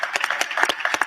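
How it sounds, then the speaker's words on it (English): Brief burst of clapping from an audience at a startup founders' event, with several distinct sharp claps in quick succession over about a second. "Give them a round of applause for that"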